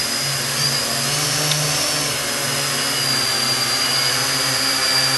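Mikrokopter XY8 coaxial quadcopter hovering on its first flight, its eight motors giving a steady, even whine with a high tonal hum above a broad rushing wash, continuous and fairly close.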